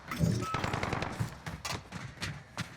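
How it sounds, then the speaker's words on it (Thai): Machine gun fire in Call of Duty Modern Warfare multiplayer, fairly faint and somewhat distant, coming as a string of short, uneven bursts of shots. "เฮ้ยเล่นปืนกลซะงั้น"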